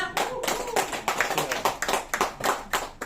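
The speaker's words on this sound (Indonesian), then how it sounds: "kasih aplaus semuanya dulu dong" Audience applause fills a training session in Tangerang, dense and sustained for about three seconds, with bursts of clapping swelling and easing in waves.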